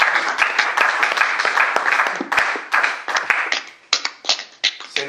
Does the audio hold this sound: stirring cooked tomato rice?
no